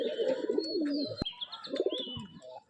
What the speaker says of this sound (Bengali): তো চলো বিস্কুট মাদিটা তোমাদের দেখাচ্ছি, তারপরে এই দুটোকে ছেড়ে দেবো, উড়বে, দেখবা।